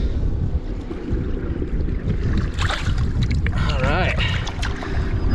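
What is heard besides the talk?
wind blowing while fishing on a boat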